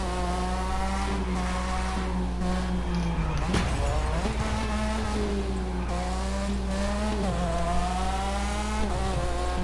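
Video game race cars, racing against police, rev with shifting engine pitch while tires squeal in a sharp skid near the middle, the loud engine drone rising and falling steadily throughout with no voices present.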